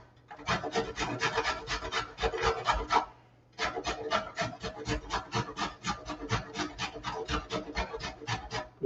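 Food is grated with quick, steady rasping strokes in a kitchen, up close and fairly quiet, with one brief pause before the rhythmic scraping resumes.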